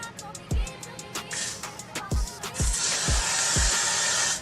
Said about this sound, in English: I spray it on my hair to make sure it stays in place